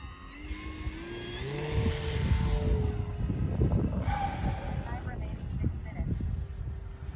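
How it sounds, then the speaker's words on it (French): Model airplane taking off as its motor rises in pitch with a whining tone at moderate distance, over rumbling ground noise and some talking. "on va le faire redécoller et on fera un virage à droite"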